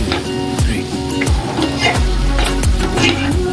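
Meat curry with coriander leaves being stirred in a hot pan, a loud close sizzle and fry under rhythmic scraping sweeps of the spoon across the pan, no speech.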